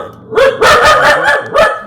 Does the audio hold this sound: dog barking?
yes